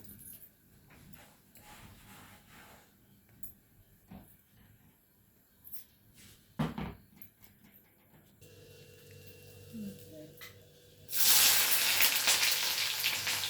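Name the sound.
onions frying in a pan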